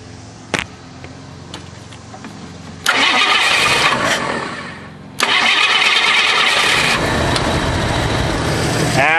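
A Ford Fairmont engine running on propane cranks with a few sharp clicks, then catches loudly, dips briefly, fires again and settles into a steady close running roar.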